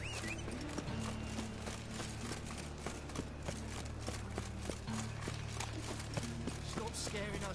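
Hooves clip-clop in a rapid galloping rhythm from a horse in the video game Witcher 3, steady and continuous under a voice speaking throughout.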